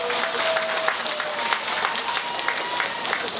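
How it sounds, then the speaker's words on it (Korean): Audience clapping to welcome an official at the 2019 Sinan island pomfret festival, a dense continuous outdoor applause with a faint tone underneath, steady and moderately loud. "여러분 큰 박수로 맞이해 주십시오"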